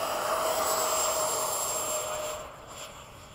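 An Avanti aircraft taking off from a runway at Bayside: a steady, fairly faint engine roar with a high whine that tapers off toward the end.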